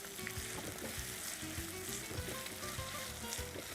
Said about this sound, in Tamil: நல்லா 3/4 பாகத்துக்கு வதக்கணும்